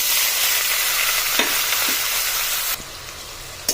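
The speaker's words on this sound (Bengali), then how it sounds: "ফোড়নটা ভালোভাবে ভাজা হয়ে গেলে দিয়ে দিলাম পেঁয়াজটা" Onion sizzles steadily in hot oil after whole spices have been tempered, for fish tel jhal (tangra); a continuous loud frying hiss with a few stirring clinks, then a quieter stretch near the end.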